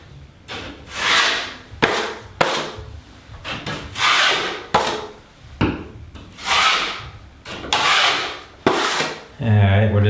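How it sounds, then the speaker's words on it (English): A putty knife spreading spackle over drywall nail pops, making repeated loud, close scraping strokes in bursts about a second long with short pauses between, each drag rasping across the wall surface. "just spackle them like you normally would, keeping the edges real thin"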